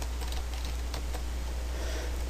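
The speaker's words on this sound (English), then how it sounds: "I'm typing these tags in" Computer keyboard being typed on at a steady pace, entering HTML tags, with soft clicks close by over a constant background hum.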